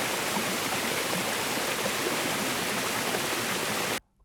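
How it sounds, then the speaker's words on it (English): A waterfall captured by CJOSSUL V2 hydrophones gives a dense, loud, unbroken broadband roar that holds steady for about four seconds, then cuts off abruptly into near silence. "Now another thing here that happened is also this waterfall too."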